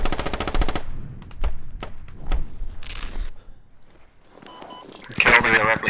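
Gunfire in the military shooter game Squad: a fast automatic burst, then scattered single shots and thumps, with another loud burst at the end, and people talking over it.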